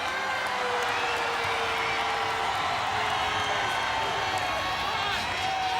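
A capacity crowd in a pro wrestling arena gives a continuous, dense roar of cheering and shouting, with someone talking over the noise throughout.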